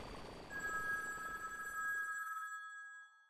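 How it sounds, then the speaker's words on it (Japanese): A telephone rings inside the Dragon Ball Z Kakarot video game: a steady electronic ring of bright repeating tones that holds for about two and a half seconds, then cuts off, leaving only a thin tail. "電話だ。"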